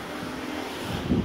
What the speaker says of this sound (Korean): 바람이 너무 불어가지고